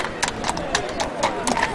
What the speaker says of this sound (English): just horses walking down the street